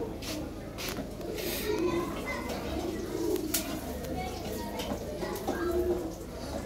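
Lahori pigeons coo softly in a loft, low rounded calls repeating under nearby human chatter and voices.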